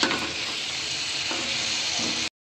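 Chicken rice with chopped onions stir-fries loudly in a pan, a dense close sizzle with scraping stirs running continuously before cutting off abruptly.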